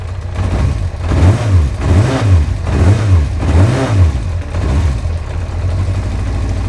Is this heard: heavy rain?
no